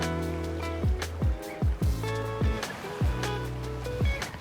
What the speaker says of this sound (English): All I want to do is just sit around here, listen to the waves